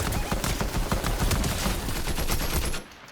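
Continuous Fortnite gunfire in a battle royale match, dense rapid bursts of shots crackling almost without pause, loud and close, ending abruptly in near silence.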